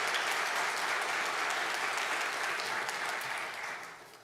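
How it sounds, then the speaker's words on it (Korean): A church congregation applauds a first-time visitor with dense, sustained clapping from many hands that fills the room evenly before tapering off near the end. "환영의 박수로 맞이하겠습니다."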